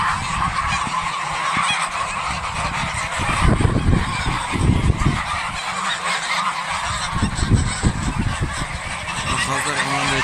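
A flock of farm geese being fattened on boiled potatoes honks loudly and continuously nearby, with bursts of overlapping calls and a voice talking faintly in the background.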